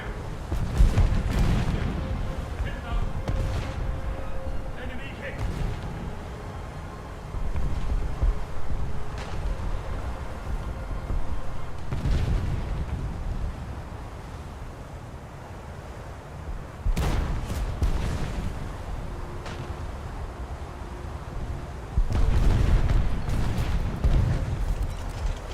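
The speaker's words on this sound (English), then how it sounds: "And we just keep shooting." Sustained naval cannon and gunfire from a warship video game, rolling booms and bursts repeating in waves across the whole stretch, loud and continuous with no clear pauses.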